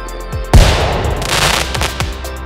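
Fireworks at a hot air balloon festival in Ascension Parish: a loud sharp burst followed by a dense crackling, popping rumble, with a few more scattered bangs trailing off.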